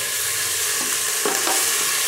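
Ginger garlic paste frying in a pan with oil after cloves and cinnamon, a dense continuous sizzle with a few soft stirring scrapes and clinks, close and fairly loud.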